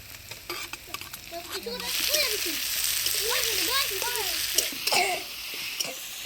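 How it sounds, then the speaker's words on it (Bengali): Chopped onion and tomato are stirred and fried in hot oil seasoned with cumin seeds, bay leaf and dried chilli, giving a steady sizzle with stirring scrapes, while children chatter and laugh nearby. "পেঁয়াজ টমেটো ফোড়নের তেলে ভালো করে নাড়াচাড়া করে নিলাম"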